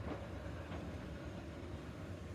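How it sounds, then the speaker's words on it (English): Keihan green trains run along the Ishiyama Sakamoto Line by Lake Biwa, a faint, steady rumble of rolling wheels at a distance with no voices. "Bear's journey starts with the familiar sight of Keihan's green trains"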